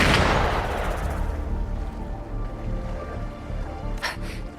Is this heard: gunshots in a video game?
yes